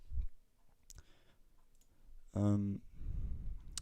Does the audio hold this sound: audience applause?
no